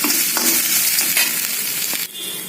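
Onions, curry leaves and green chilies fry in a little oil, giving a steady close sizzle broken by a few stirring scrapes, with no voices.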